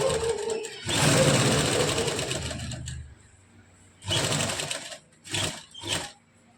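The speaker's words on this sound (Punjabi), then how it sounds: "ਇਥੋਂ ਤੁਸੀਂ ਸਿੱਧੀ ਸਲਾਈ ਲਗਾ ਲਿਓ" A sewing machine stitches a straight seam along the neckline of a shirt, whirring up close in one long run followed by several short bursts, with no talking.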